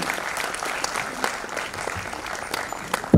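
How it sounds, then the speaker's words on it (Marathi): An audience applauds a chief guest at a formal speech event, with dense, continuous clapping filling the room at an even level throughout. "So huge round of applause, continuous टाळ्या वाजले पाहिजे आपल्या चीफ गेस्ट साठी आजच्या."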